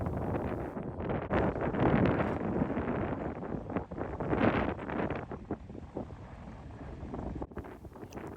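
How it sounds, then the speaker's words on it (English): Strong gusting wind buffets the microphone in heavy roaring bursts on a ship's open top deck, rising and falling with a faint low rumble beneath. "And boy, is it windy up here."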